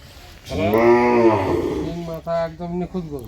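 A cow gives one long, loud, falling moo lasting over a second at a busy Dinajpur cattle market where dairy cows are sold, followed by someone talking nearby.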